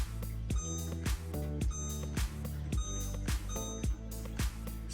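A kitchen timer beeps while homemade sandwich bread goes into the oven, giving short, evenly spaced tones about twice a second at low volume with no talking over it.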